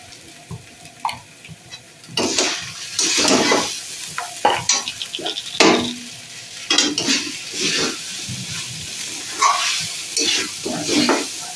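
Sago pearls frying with vegetables over a medium gas flame, stirred in a pan with intermittent scraping and clattering strokes over a steady soft sizzle, loud and close, with no talking.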